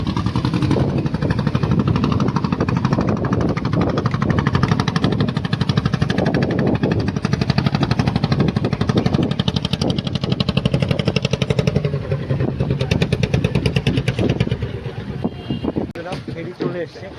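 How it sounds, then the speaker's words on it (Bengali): A ferry heading for Ghoramara island runs its engine with a loud, rapid, throbbing chug close by, steady for most of the clip under wind rumble before easing near the end. "ফেরি চলে এসছে এবং এই ফেরিতে উঠে পড়বো"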